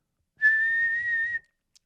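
A single clear human whistle holds one steady high note for about a second, close and alone.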